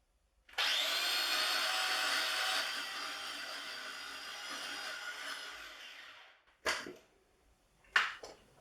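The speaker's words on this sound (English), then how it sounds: "Okay, that's everything for our salsa verde in the processor. Now time to just give it a whiz up." A food processor whizzes salsa verde for about six steady seconds of loud, even whirring, then stops, followed by a couple of short clunks.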